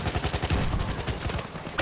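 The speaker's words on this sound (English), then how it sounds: "K2 is definitely doing this grenade spam on B." Rapid gunfire in a Battlefield 1 tournament match, dense bursts of shots over a rumbling battle bed from explosive grenade spam, with a sharper crack near the end.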